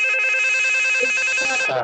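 Electronic phone ringtone trilling steadily and loudly during an online committee meeting, a continuous warbling ring that cuts off near the end.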